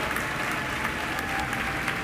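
A crowd at a Starship Flight 13 launch watch party cheers and applauds as the first Starlink V3 satellite deploys from Starship, a dense, steady wash of clapping and whoops lasting the whole moment.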